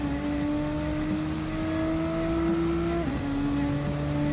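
An opponent's race car in Gran Turismo Sport at Monza passes by, a steady engine whine holding one pitch with a brief dip near the end, heard continuously under constant road and engine noise.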